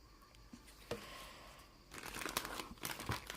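Paper crinkles and rustles close by, quiet at first, then growing into a busier stretch of crackling and crumpling.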